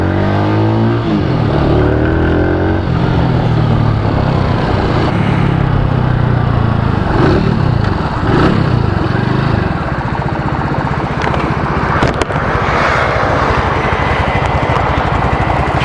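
Blackcafe 125 Hanway motorcycle engine running steadily throughout a ride, loud and close, with the pitch rising and falling through gear changes and throttle shifts, and wind noise over the top.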